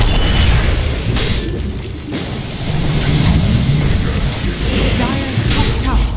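Deep booming explosions from Dota 2 as a middle tower comes under attack, with loud continuous rumbling blasts and bursts layered over game noise.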